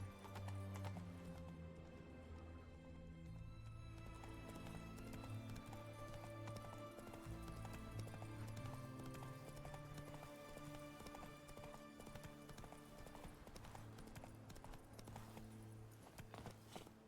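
Geralt's horse Roach in The Witcher 3, hooves clip-clopping in a steady trotting rhythm under game music and ambience, with a brief whinny, fairly faint overall and no talking.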